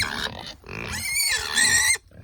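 Homestead pigs grunt and squeal up close in a short burst of loud, rough, overlapping calls.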